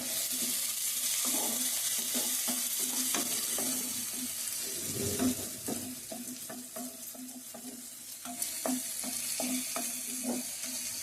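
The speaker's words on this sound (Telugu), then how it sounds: "ఈసారి మొత్తం అంతా కలిపి వేద్దాం." Chicken fry being mixed together in a hot pan, giving a steady bright sizzle with repeated scraping and tapping strokes of a spatula, close and continuous, with no one talking.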